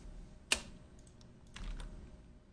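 Computer keyboard keys are tapped in a few quiet, sparse presses, one sharper click standing out, in a quiet room.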